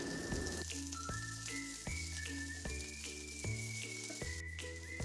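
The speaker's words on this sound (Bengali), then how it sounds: "আলু আর বেগুনটাকে তেলে আমি 1 মিনিটের মতন ভাজবো।" Potatoes and eggplant fry together in hot mustard oil, giving a soft, continuous sizzle with faint, steady melodic tones in the background.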